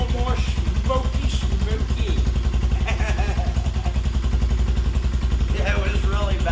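A Honda TRX200SX ATV engine runs steadily nearby with a rapid, even chugging pulse and some mechanical clatter, while people talk over it.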